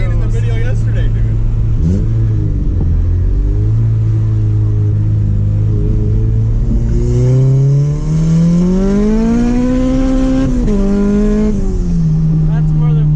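Turbocharged Honda B20 car engine pulling hard on boost in second gear, a loud steady drone whose pitch climbs through a gear then drops and climbs again, with people talking in the cabin over it.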